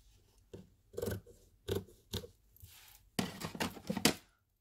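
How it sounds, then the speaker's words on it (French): Scissors snip through fabric around a template during a fabric and lace flower craft. The cuts are quiet, crisp and close, arriving in a few irregular bursts with short pauses between them. "On prend nos ciseaux."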